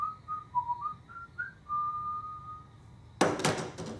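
A man whistles a tune in Creep 2, clear and close, then a sudden burst of loud knocking on a door cuts in near the end.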